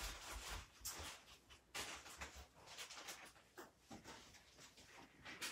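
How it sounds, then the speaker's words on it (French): A dog pants steadily with faint whimpers mixed in, close and fairly quiet, the breathing running on in an uneven rhythm across the whole stretch. "Et le chien, c'est à moi."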